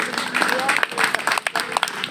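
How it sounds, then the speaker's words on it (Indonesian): An audience at a campus talk show claps in a short burst of applause, with crowd noise and some voices mixed in. "Tepuk tangan dulu."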